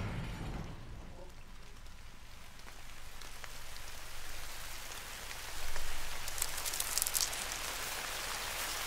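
Temporal rain in Death Stranding falls as a steady, broad hiss of rainfall with scattered drops, heard alone with no talk and swelling slightly louder near the end.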